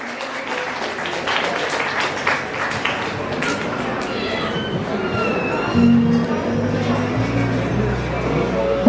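A crowd claps for the couple at a Kerala engagement ceremony, a dense sustained round of applause, with tonal music rising in the last few seconds.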